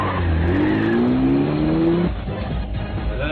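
Car engines roar and rev steadily with a rising, pitch-sliding whine and a possible tire squeal, a continuous loud rush of motor noise with no talk, set in a city with heavy traffic.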